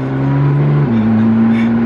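A Porsche GT3 fitted with a GMG exhaust revs loudly up close, holding a steady tone before stepping up to a higher pitch as the engine climbs. No voices.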